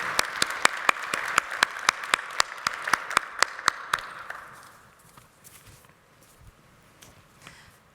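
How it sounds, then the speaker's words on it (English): Applause at a 3D printing industry event: a few sharp, evenly spaced claps dominate over a softer bed of audience clapping for about four seconds, then it fades to near quiet. "Can we get a round of applause,"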